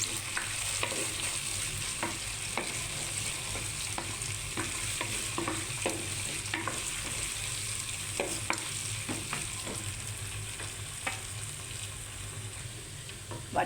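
Curry leaves frying in hot oil for mango pickle, a steady close sizzle broken by repeated scraping clicks of a spoon stirring the pan, continuous throughout with no talking.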